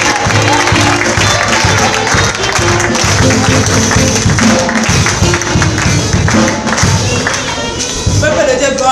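A church congregation applauds in a loud, continuous, dense wash of clapping. Music and voices mix in throughout.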